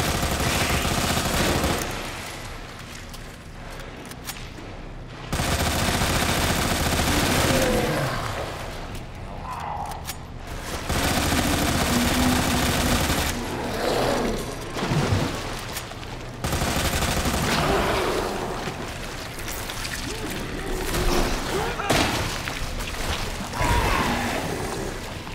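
Gunfire in Resident Evil 2 Remake, long loud bursts of rapid automatic shots from a close weapon, stopping and starting in several sustained volleys with short gaps between them.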